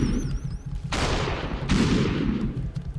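Gunfire in the Superhot video game: two loud, close bursts of rapid shots, each lasting close to a second, with quieter game sounds between and after them and no talking.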